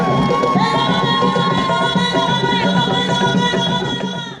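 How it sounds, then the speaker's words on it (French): The crowd at a forest peoples' cultural festival cheers loudly after a traditional heritage dance, with raised voices and shouting over a sustained, bright tonal sound, fading out at the end. "la danse patrimoniale Sirtambartois du Moyen-Âme a arraché les applaudissements nourris du public"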